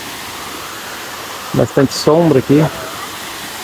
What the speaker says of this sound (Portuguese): E ali está a cachoeira de graus